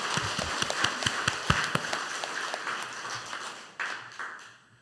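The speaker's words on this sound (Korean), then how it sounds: "박수." A church congregation applauds at an Easter service, clearly separate claps at first that merge into continuous clapping, which fades, surges briefly and then tails off.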